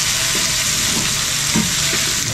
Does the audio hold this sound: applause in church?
no